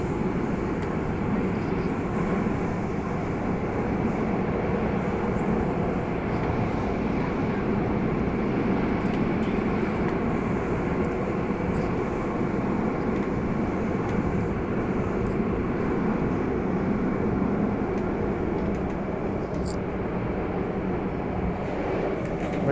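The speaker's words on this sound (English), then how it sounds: "We're crossing the tracks." MTR Tung Chung line A-Train rumbling steadily over track crossings, a continuous loud low roar of wheels and motors heard from inside the carriage, with no talk.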